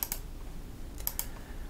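Keys on a computer keyboard tapped in a couple of quick short clusters, close and fairly faint over a quiet background.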